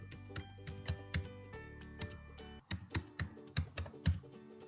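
Keys click on a computer keyboard as a password is typed, a quick series of close, crisp taps in uneven bursts with short pauses between them.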